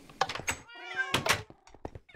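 Several cat meows from a Minecraft cat, short tonal mews in quick succession with a couple of dull thunks between them, close and fairly loud, with a voice speaking briefly.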